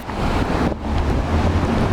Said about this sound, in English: it's kind of windy outside